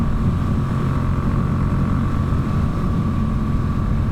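A motorcycle with a long muffler rides along the road, its engine a loud close continuous rumble with a steady drone.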